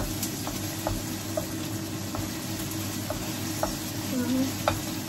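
Food frying and being stirred in a pan, a steady sizzle beneath repeated scraping and clinking strokes of a utensil, close and continuous with no talking.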